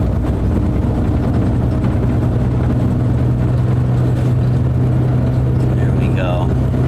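An empty semi truck climbing a three-lane mountain grade gives a loud, steady low engine drone throughout, with a voice speaking faintly over it.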